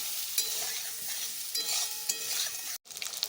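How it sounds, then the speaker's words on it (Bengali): Chicken sausages frying with chopped onion, an even close-up sizzle with scraping stirs that cuts off briefly near the end. "চিকেন সসেসগুলোকে একটু ভেজে নেব।"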